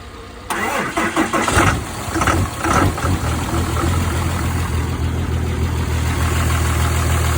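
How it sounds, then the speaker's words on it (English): A third-generation race truck's engine, without a turbo, cranks and catches in 27-degree weather, then settles into a loud, steady rumbling idle that continues to the end. "This truck does run and drive."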